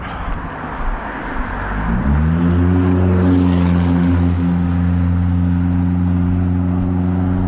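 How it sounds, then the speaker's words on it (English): A car with a poorly secured muffler approaches and drives past on a road in Maine, its engine drone rising to a loud, steady low hum that holds as it passes close by, with no talking. "Here comes that car I was talking about."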